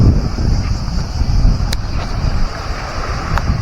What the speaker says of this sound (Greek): Δεν ξέρω τώρα τι ακούγεται, φυσάει.